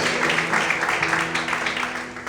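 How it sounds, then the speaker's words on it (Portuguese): A church congregation applauds during an evening worship service, a steady, dense wash of many hands clapping in a reverberant hall, continuous and fairly loud for a couple of seconds. "Você pode aplaudir ao Senhor essa noite?"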